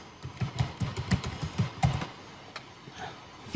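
Quick run of key taps on a laptop keyboard as a single word is typed, a dozen or so close, light clicks in an uneven burst, then a louder final press.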